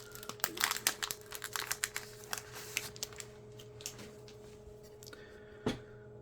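Trading card packs being cut open along their tops, a run of quiet crinkling foil snips and rustles clustered in the first seconds, then sparser handling with one sharper crackle near the end.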